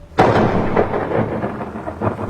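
A heavy thunderstorm at sea: a sharp thunder crack opens, then a loud, steady roar of rain and rumble carries on throughout.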